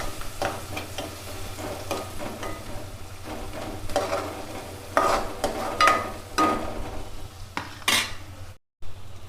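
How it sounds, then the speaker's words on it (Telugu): Mushrooms fry in oil with turmeric and salt, a constant sizzle under repeated scraping and clinking of a spoon against the pan, close up and uneven in loudness. "పసుపు కొంచెం సాల్ట్ వేసుకొని ఆయిల్లో ఫ్రై చేయండి"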